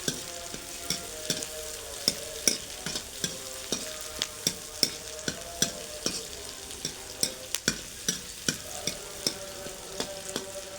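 Onions sizzle steadily in a pan for a capsicum curry while a spoon stirs them, striking the metal in regular sharp clinks about twice a second over the continuous frying hiss.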